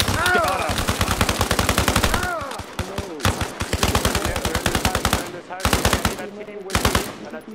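Sustained automatic gunfire in the military shooter Arma Reforger, rapid rhythmic bursts close and loud with brief pauses between volleys and faint voices underneath.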